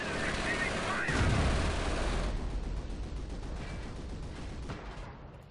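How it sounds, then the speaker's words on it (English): An artillery barrage in the World War II strategy game Company of Heroes, with rumbling booms and crackling impacts that peak early, then trail off into scattered distant blasts. "we've got another barrage ready, so let's see if that barrage does it."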